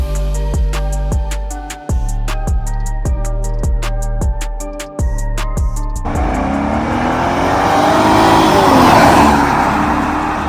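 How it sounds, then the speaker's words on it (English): 1996 Mercedes-Benz R129 SL500 V8 engine heard close, with repeated rhythmic rev pulses cut by brief pauses before giving way to a broad steady roar as the car drives. "welcome to my 1996 Mercedes-Benz R129 SL500"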